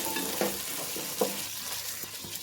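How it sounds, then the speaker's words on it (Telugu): Diced potatoes being stirred in a hot pan while frying for a vegetable biryani, with a steady sizzle and two or three sharp scraping clinks of the spoon against the pan, close and alone. "ఆలు వేసిన తర్వాత మంచి బాగా కలపండి"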